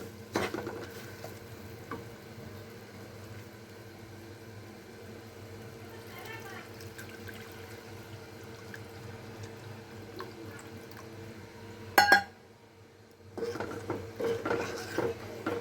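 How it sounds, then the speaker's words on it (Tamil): Tamarind water poured into a pan of roasted spice mix for puli milagai thokku, a low steady liquid rush and simmer with a sharp utensil clatter near the end. "அந்த புளியை விட்டுடலாம் இதில்"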